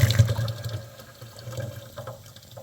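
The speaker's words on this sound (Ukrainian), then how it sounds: "миємо радіатор пічки, тестуємо результат" Water flushing through the heater radiator of a Mazda CX-9 with about 160,000 km on the original antifreeze, a steady close rushing flow that is loudest at the start and then settles into a continuous wash, with no talking.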